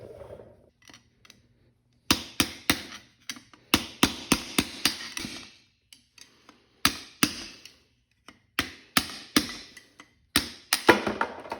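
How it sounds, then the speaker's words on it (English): Sharp metallic hammer taps striking a screwdriver to tap out a bushing from a Mustang transmission, in quick bursts of several blows separated by short pauses, close and loud with no talking. "all we need is a screwdriver and a hammer, and we'll just tap this one out"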